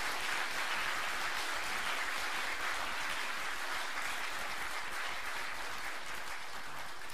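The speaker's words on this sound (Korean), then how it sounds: "우리 합창 단원들에게, 원코러스 단원들에게 크게 좀 박수로 좀 쳐주셨으면 좋겠습니다" A congregation applauds the One Chorus choir members during a Korean religious service, with broad continuous clapping that keeps a steady, even level from start to finish and no speech over it.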